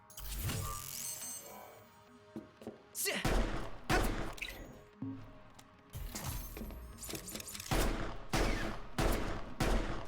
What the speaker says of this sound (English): Equip the handgun and shoot them with ardor.